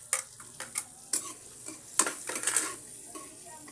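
Garlic sizzles in melted butter for buttered garlic crabs, with a soft frying hiss under repeated clinks and scrapes of a utensil stirring against the pan.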